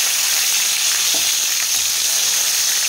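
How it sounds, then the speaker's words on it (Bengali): Pieces of fish sizzle in a pan of oil, a continuous close-up crackling hiss with faint stirring touches, no talking over it. "মাছ ভাজাটা নামিয়ে নেব"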